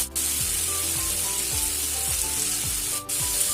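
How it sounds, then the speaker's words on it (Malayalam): Onions sautéing in a hot pan for a special beef dish give a steady, close sizzle, with regular scraping strokes of stirring every half second or so. "സവോള ഒന്ന് ചുവന്ന് വരുന്നവരെ നമുക്കിത് വഴറ്റി കൊടുക്കാം."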